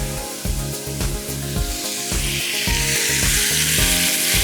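Chicken pieces fry in ghee with ginger garlic paste and whole garam masala, giving a close, continuous sizzle broken by rhythmic scraping and stirring strokes in the pan.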